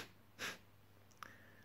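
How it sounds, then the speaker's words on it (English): One short, sharp breath forced out through the nose, very quiet, followed by a faint brief chirp-like tone. "forcing the breath out with a sneezing sensation"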